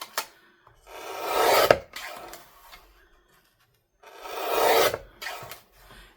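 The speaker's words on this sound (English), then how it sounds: "I'm just cutting a few strips off." Paper strips for a mini collage board are being cut: two separate rasping cuts of about a second and a half each, with a few short scrapes between them, heard close up in a quiet room.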